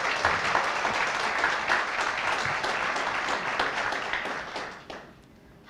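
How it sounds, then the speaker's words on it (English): An audience applauds in a public-service gathering, dense sustained clapping from many people that fades out near the end. "Give a round of applause for Taryn."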